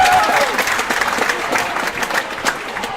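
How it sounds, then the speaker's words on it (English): Crowd at a teen volleyball tournament playoff roaring and clapping, dense applause loudest at the start and easing off, with a brief whistle-like tone at the opening. "Wow, listen to that crowd roar."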